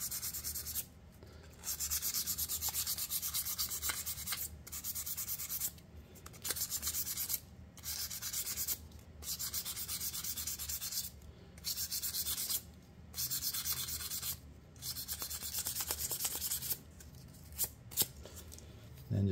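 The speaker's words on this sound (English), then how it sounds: "take a small piece of sandpaper and just sand the holes" A small piece of sandpaper rubs over holes in an aquarium airlift part, quick scratchy strokes in bursts broken by short pauses, close and fairly quiet.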